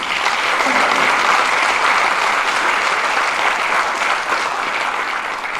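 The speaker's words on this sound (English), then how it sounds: "So one more round of applause for Luis." A crowd at a Hall of Fame induction ceremony gives a round of applause for Luis, a loud, steady wash of many hands clapping that holds evenly throughout with no speech over it.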